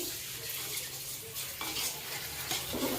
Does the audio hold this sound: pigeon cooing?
no